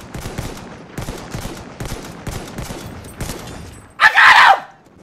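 Gunfire in Battlefield 1, a video game: steady bursts of rapid automatic shots over several seconds, followed by a loud, dense blast or crackle near the end, with no clear talk over it.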